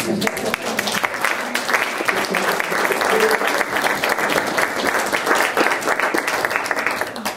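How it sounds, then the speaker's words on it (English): Steady, dense applause from an audience at a Thanksgiving gathering, sustained at an even level for the whole stretch with no break. "let's give him a big round of applause."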